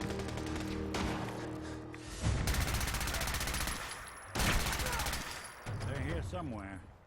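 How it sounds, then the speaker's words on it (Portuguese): Repeated bursts of gunfire in the video game Fallout 4: Far Harbor come in loud, dense volleys with brief gaps between them, mixed with game sounds. "Muitos tiros."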